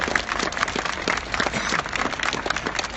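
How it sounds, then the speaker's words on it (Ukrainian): An audience applauds a decorated war veteran, a full cavalier of orders, onstage at a Ukrainian ceremony honoring the Invictus Games team, sustained clapping from a large crowd, moderately loud and continuous. "Ваші оплески, повний кавалер"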